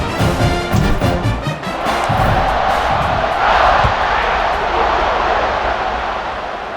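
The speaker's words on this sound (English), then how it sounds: "this crowd is buzzing after that last score" A virtual stadium crowd in the video game College Football 26 buzzes with a loud, steady roar, swelling slightly in the middle and fading a little toward the end.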